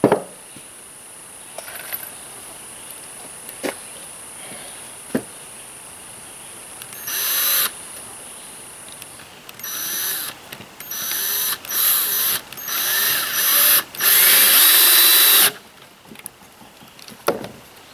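A power drill drives screws into the wooden floor framing of a tiny house on wheels, giving short whirring bursts and one longer run, with clicks and knocks between them.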